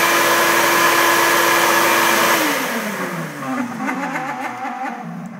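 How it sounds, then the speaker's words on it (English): Shop vac running loud and close, a steady high whine and rushing airflow that then spins down with a falling pitch as the motor winds off. "Here's the shop vac."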